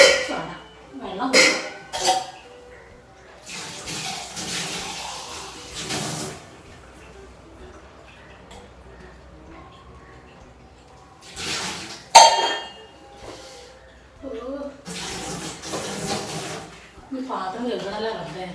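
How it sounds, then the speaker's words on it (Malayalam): Dishes, glasses and pots clink and clatter during washing in a home kitchen, coming in several separate bursts with quiet gaps between them, along with some background sounds. "പാത്രം കഴുകണല്ലോ റബ്ബേ"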